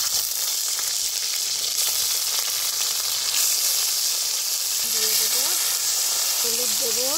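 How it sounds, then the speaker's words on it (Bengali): Rohu fish frying in a pan, a loud, dense, steady sizzle and hiss that continues throughout, with faint voices briefly audible beneath it near the end. "মাছটা ভেজে নেব আগে"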